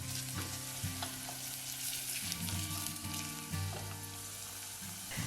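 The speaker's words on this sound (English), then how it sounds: "Add the chopped onion and carrot and saute until the onion is soft and beginning to brown." Chopped onion and carrot sauté in olive oil in a saucepan over medium heat, giving a steady close sizzle with repeated scraping stir strokes and low clunks of a utensil against the pan throughout.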